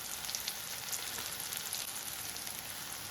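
Ground spices such as chilli powder, garam masala, cumin and pepper frying in a pan for kadala curry, giving a dense, even hiss of close sizzling throughout with no voices.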